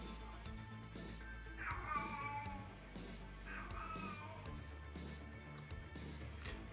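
A house cat meows twice in drawn-out, wavering calls a couple of seconds apart, at moderate distance over a constant low background hum with a few faint knocks.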